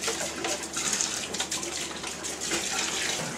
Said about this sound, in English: I end up washing all of my dishes and rinsing off all the stuff I need to clean up that's in my sink while the wort chiller is running.